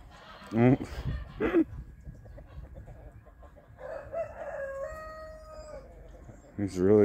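A rooster crows nearby on a farm amid other chicken clucks, with people talking around it.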